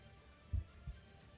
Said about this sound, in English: Heartbeat, playing okay.